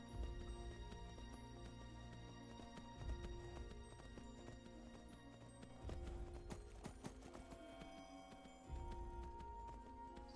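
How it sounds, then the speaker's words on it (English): Horse hooves clacking in a steady clip-clop rhythm for a High Rock horse in an Iliac Bay video game, crisp repeated strikes over a faint tonal background at low overall level. "If we could get some, like, nice sharp hoof clacks. Yeah, this is one of the High Rock horses."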